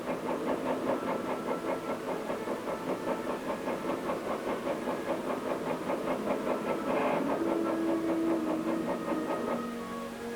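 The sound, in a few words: tank engine running in army test chamber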